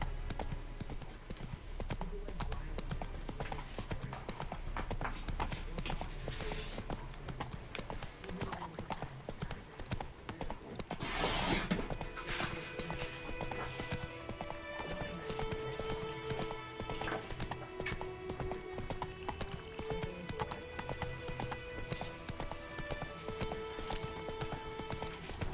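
Roach, the horse in The Witcher 3 video game, gallops with a fast, steady clip-clop of hooves that runs continuously over the game's music and ambient sound, loud and close the whole time.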